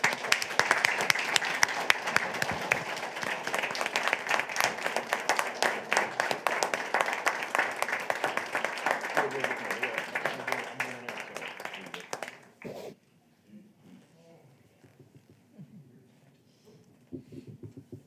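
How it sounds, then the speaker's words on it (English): An audience at a city council meeting claps loudly for about twelve seconds, then the applause stops abruptly and only faint scattered sounds remain. "I think you all deserve a round of applause."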